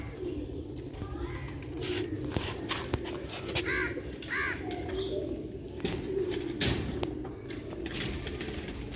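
Pet pigeons coo in a loft, with repeated low rolling coos and occasional wing flutters and clatter over a busy noisy background, close and moderately loud.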